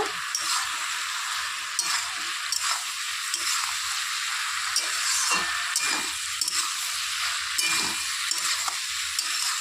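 Malabar spinach curry stirred in an uncovered pan over low heat, an even bright sizzle with repeated scraping strokes of a spoon at an irregular rhythm, close and moderately loud with no talk.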